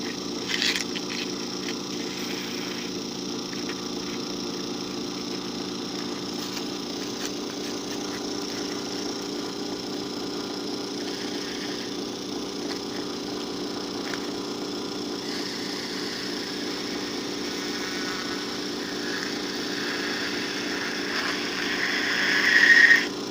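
A small DC motor runs steadily with a constant hum and whine while its commutator is cleaned, the drone holding level throughout and swelling slightly near the end.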